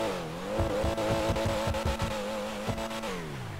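A Pfister Comet S2 sports car in GTA Online revs through its exhaust with a strong droning engine note that rises and falls, plus brief crackles and shift blips, heard alone.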